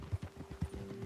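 Horse hooves clip-clop softly on the ground in Red Dead Redemption II, a few muffled, unhurried thuds in an uneven walking rhythm, close but faint, with no talking.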